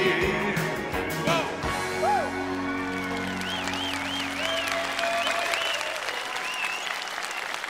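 Audience applause at a 1995 live Swedish dansband show, steady clapping filling the hall for several seconds, with a few whoops and scattered voices over it as a song ends.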